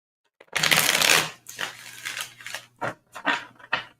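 Tarot cards are shuffled by hand, starting with a loud close riffle and continuing as a string of shorter, brisk card slaps and flutters.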